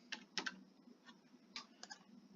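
Typing on a computer keyboard while entering a sentence into a spreadsheet cell: sparse, crisp key clicks arrive in small clusters with pauses between, close and clear in a quiet room.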